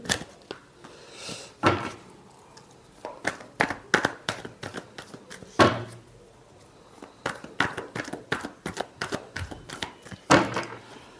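Tarot cards shuffled by hand, a run of sharp riffling slaps and taps at an irregular rhythm, close and fairly loud.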